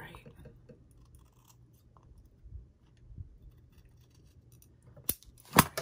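Scissors cut paper for a junk journal in a quiet room: a few soft snips early on, then crisp, sharp cuts close by near the end.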